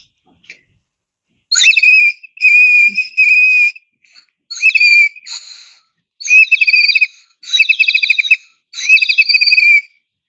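Glaze-fired ceramic water whistle shaped like a teapot, partly filled with water, blown in six or so loud, close, warbling trilled bursts separated by brief pauses.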